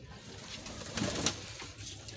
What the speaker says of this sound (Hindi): कबूतर खोलते हैं, बाहर करते हैं, इनको दाना वाना डालते हैं